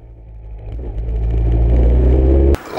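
A Formula 3 race car on the Paul Ricard circuit, heard from inside, its engine note climbing and rumbling louder as it accelerates through the final corners before an abrupt cut.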